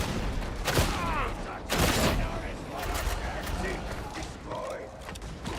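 Gunners firing in Warhammer 40,000: Darktide, a busy spread of gunfire bursts with loud broadband blasts near the start and around two seconds, set in a dense, noisy game mix.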